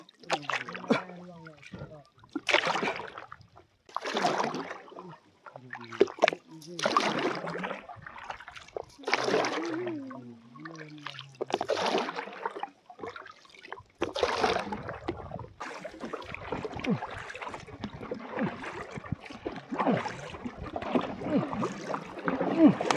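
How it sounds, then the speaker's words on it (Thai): A rowboat is paddled across the water in a practiced race-style effort, giving repeated rhythmic splashing strokes roughly every couple of seconds, close by, with people talking and shouting between strokes. "มาพายกันเดียว"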